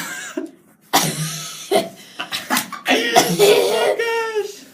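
A woman imitates her grandmother's uncontrollable coughing fit, a string of harsh, irregular coughs and throaty bursts mixed with chatty speech, close and fairly loud.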